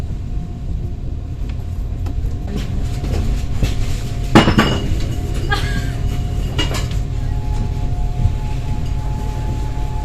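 Steady rumbling ambience at the Ivano-Frankivsk railway station with metallic clanks and screeches from rail cars, a loud clatter midway, no voices standing out.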